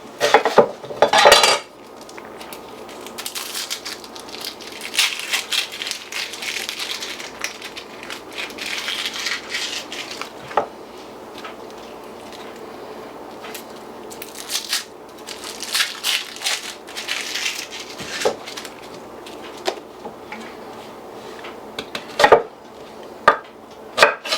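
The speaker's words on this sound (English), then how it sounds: "Not going to do nothing fancy cutting this onion up." A knife cuts an onion on a cutting board in a kitchen, with scattered close knocks and crunchy chops at irregular intervals plus clatter of utensils and dishes, no one speaking.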